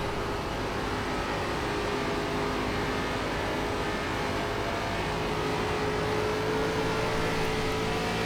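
ARCA Menards Series stock car engines at Homestead in iRacing roar steadily and loudly from the driver's car, with the drone of other cars passing close alongside throughout.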